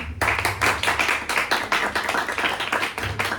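A small group at a philosophy and psychoanalysis discussion gathering claps in a loose, uneven rhythm, the strikes close and distinct, with a faint low murmur underneath.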